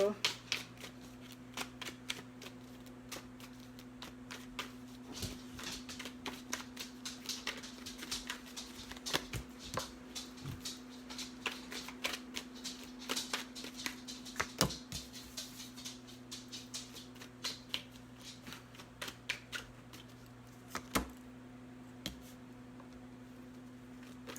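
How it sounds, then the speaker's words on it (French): Tarot cards are shuffled continuously in a rapid, soft riffling patter at close range under a steady low hum, while someone talks in French. "Prendre les vraies cartes, voir ce qui se passe avec ça."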